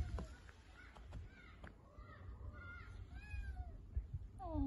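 A cat meows several times in soft, rising and falling calls, fairly faint over low background rumble and outdoor noise.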